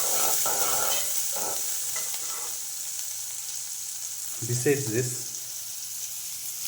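Drumstick leaves frying with cumin in a pan give a steady sizzle throughout, with stirring scrapes and a brief voice near the end.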